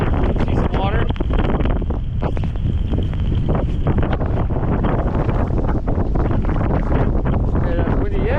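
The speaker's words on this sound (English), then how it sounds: "Okay, that's windy. Yeah, it's windy." Strong, gusty wind roaring across a footbridge over water during a blizzard, buffeting the microphone as a loud continuous rush, while a voice speaks over it.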